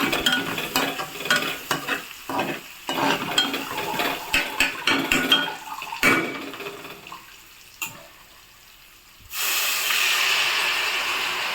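Amaranth leaves go into a hot pan of softened tomato, bringing sizzling and frying hiss with a run of scraping, clattering stirring strokes, then a brief lull before a fresh burst of steady sizzle near the end.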